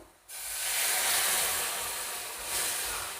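Water poured onto spices frying in oil for a potato curry bursts into a loud, broad steaming hiss that holds steady for about three seconds.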